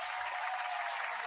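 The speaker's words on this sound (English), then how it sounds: "So let's give a big clap to Sandro." A steady, even wash of audience applause for a speaker at a motivational speaking contest, moderately distant and unbroken throughout, with no voices standing out.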